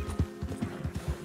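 Horse hooves in Red Dead Redemption 2 clip-clop in a quick, steady rhythm, close and fairly soft, several footfalls in just over a second.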